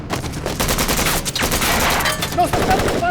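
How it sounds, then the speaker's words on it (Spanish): Rapid gunfire as shots are fired at people in a mine, a dense loud fusillade of cracks and bursts running throughout, with shouting voices mixed in. "¡Nos están disparando!"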